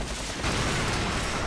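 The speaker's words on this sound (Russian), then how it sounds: "Массовый обстрел всей позиции точки А." Mass shelling of a point A position in a video game match: a dense, loud, continuous barrage of blasts and gunfire with no gaps.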